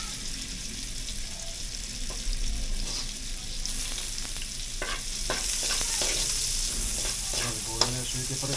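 Whole garlic cloves frying in a pan, a continuous close sizzle with occasional stirring scrapes and light pops throughout.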